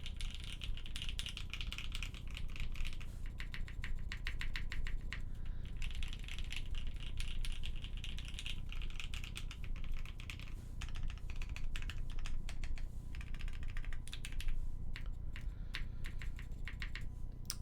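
Typing on a custom mechanical keyboard fitted with C3 stabilizers: rapid, fairly quiet clacky keystrokes in bursts and runs throughout, with occasional brief pauses and no talk.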